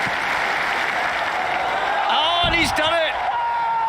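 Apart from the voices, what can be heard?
stadium crowd cheering a pole vault clearance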